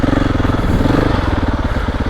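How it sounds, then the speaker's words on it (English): A 2021 KTM 690 Enduro single-cylinder engine thumps in a loud, close, steady rapid pulse while ridden on forest dual-sport trails. "I'm also riding a 2021 KTM 690 enduro"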